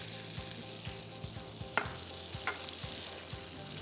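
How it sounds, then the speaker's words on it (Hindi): Butter melting in a pan just used for frying thin kingfish fillets gives a faint, steady sizzle speckled with small crackles and pops, with no talking over it. "आपने मक्खन शामिल करना है"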